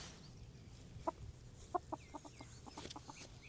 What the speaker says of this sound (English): he's telling us the answer, but we can't understand chicken talk